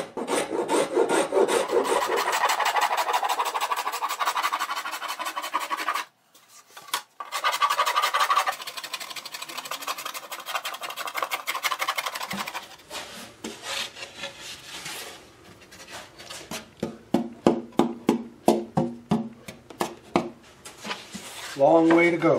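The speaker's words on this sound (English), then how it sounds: "So if I want to take off a little extra wood, I like to use the pull stroke." A hand plane shaves wood from an archtop guitar soundboard on the pull stroke, making close, rasping scrapes that run long at first, then break into a quick series of short, rhythmic strokes.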